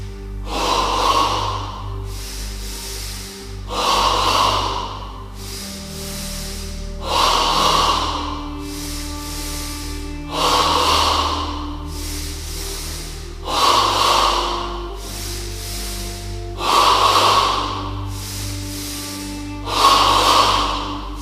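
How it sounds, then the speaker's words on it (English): Yoga double breathing, each breath drawn from the abdomen up into the chest, heard as slow, deep, audible inhales and exhales in a steady repeating cycle of about three seconds, close and alone with no talking. "Now in stage 2 of double breathing, the breath moves from the abdomen to the chest."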